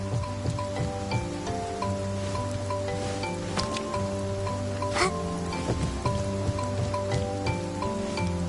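Steady rain falls in Infinity Nikki, a soft broadband patter of raindrops continuing throughout under layered melodic game music.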